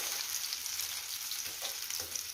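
Deruny, grated potato pancakes with a little carrot, fry in hot oil in a pan, making a faint, continuous crackling sizzle without pause and with no talking.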